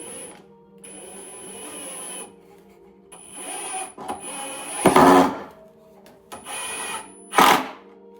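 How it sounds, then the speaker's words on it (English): A power drill drives number 8 wood screws into a wooden bee quilt box in two short, loud whirring bursts, with a steady mechanical hum running between them. "I like to screw in the middle first"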